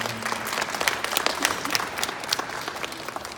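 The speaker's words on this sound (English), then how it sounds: "So I want to please give him a round of applause." An audience at a Hands Against Racism event in Surrey applauds for about three seconds, a dense, steady burst of clapping from a crowd with no other voices standing out.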